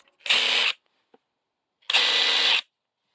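A cordless three-speed polisher used for headlight polishing runs at its middle speed in two short bursts of about half a second each, a bright motor whir separated by a pause, fairly close and with no talk.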